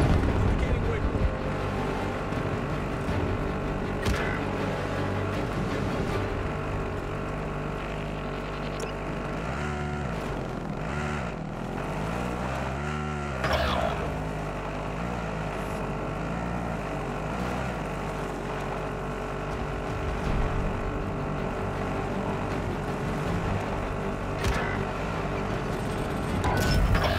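A vehicle engine driving in the video game Call of Duty: Warzone, a steady droning hum whose pitch rises and falls briefly during acceleration and gear changes before settling back into a constant rumble.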